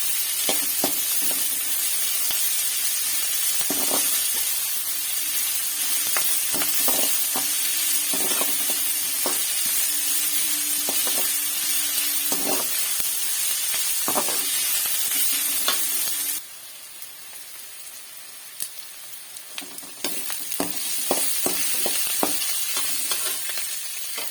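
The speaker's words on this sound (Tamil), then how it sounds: "வெங்காயம் கொஞ்சம் நல்லா வதங்கி வதக்கி எடுத்துக்கலாம்" Onions and curry leaves sauté in a pan for a mutton liver and potato pepper fry, with a steady close sizzle and frequent spoon scrapes and clicks from stirring. The sizzle drops briefly before picking up again, with no talking.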